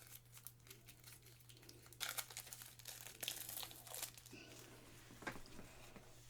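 A pack of 30 game cards is torn and unwrapped, with faint close crinkling and crackling of the wrapper in bursts over a low steady hum.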